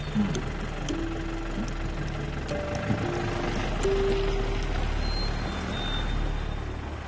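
A vehicle engine runs steadily in a Tamil film scene, a continuous low rumble with a faint whine that holds at an even level for the whole stretch, with no voices over it.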